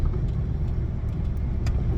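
A work truck engine idles with a steady low rumble, moderately loud and unchanging over a short stretch, no voices over it.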